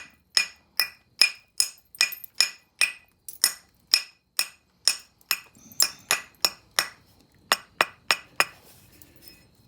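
Percussion flaking of stone, with about twenty sharp, ringing strikes landing in a fairly steady rhythm, each one bright and close, and no talking.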